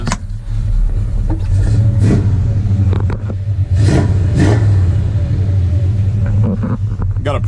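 A 1970 Chevy C10 idles with a deep rumble, then answers quick stabs of the throttle with several sharp revs that rise and fall. The engine sounds loud and close throughout.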